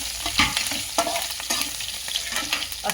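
Green chillies crackle and sizzle in hot oil for akki rave upittu while a spoon stirs through them, giving repeated scraping knocks against the pan over a steady fry.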